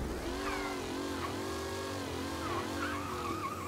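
A car drives in the video game Mafia: Definitive Edition, its engine revving steadily with rising and falling pitch sweeps as it accelerates and shifts, heard close and continuous without any talk.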